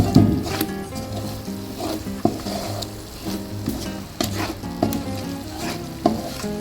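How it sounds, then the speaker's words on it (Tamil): Spice paste for mutton dum biryani sizzles steadily in a pan on low heat, with a continuous fry hiss and occasional scraping stir knocks, no talk. "அடி பிடிச்சிக்கு சிம்மில் வச்சு நல்லா வதக்கிங்க"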